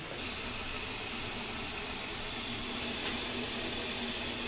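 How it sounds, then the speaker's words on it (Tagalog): A hot steamer hisses with a steady, even rush while homemade Oreo cupcakes cook inside, a continuous close spray of steam with no pauses. "Mainit na ang ating steamer, pwede na nating ilagay sa steamer."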